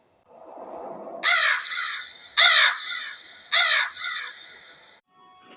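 Crows in a peepal tree caw in three loud, close bursts spaced about a second apart, each a harsh rasping call over a faint hum.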